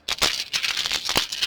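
Set of four tarot dice rattling and clattering in a hand, a few brisk shaking bursts close up with no talk.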